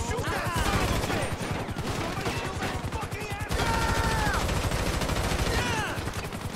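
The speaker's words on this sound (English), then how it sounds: "Shoot that son of a" Sustained automatic gunfire in GTA 5 during a rooftop chase, dense rapid shots rattling throughout at moderate level, mixed with game voices.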